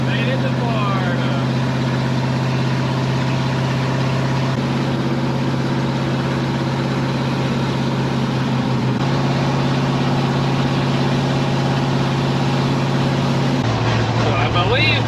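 An International Gasser truck engine running steadily at cruise on a drive, a loud constant drone with a low hum that shifts pitch slightly partway through.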